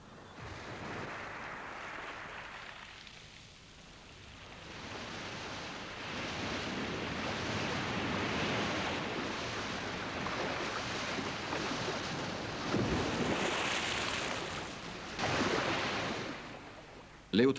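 Ocean waves break on a shore where orcas hunt, a long surging roar that swells and eases in broad washes, with louder crashes near the end and no voices heard.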